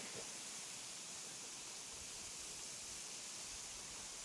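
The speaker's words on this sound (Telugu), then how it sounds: "చూడండి, వాటర్ అయితే చాలా ఫోర్స్గా వస్తుంది, చాలా కూల్గా ఉంది." Mandapalli waterfall pouring down forcefully, a steady, dense broadband rush of falling water that stays constant and fairly loud throughout, with no voices.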